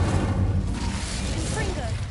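An Incendio fire spell cast in the video game Hogwarts Legacy gives a roaring, rumbling burst of flame that fills the moment, with a voice heard over it at the start.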